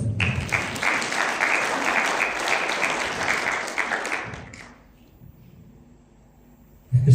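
Church congregation clapping their hands in praise, a dense burst of many hands that fills the room and then fades to quiet, with a loud new sound starting at the end.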